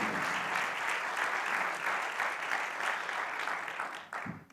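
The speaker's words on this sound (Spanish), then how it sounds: "le demos un fuerte aplauso" Strong applause from a conference audience honoring members of a family support association, loud continuous clapping filling the room, then tapering abruptly near the end.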